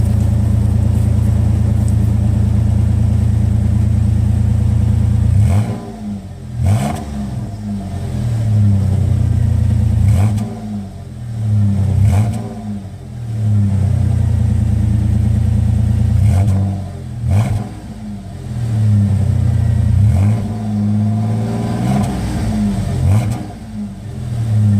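A Toyota 4Runner fitted with a Thrush muffler idles with a deep, loud rumble, then its engine revs repeatedly in a series of rising and falling bursts close by.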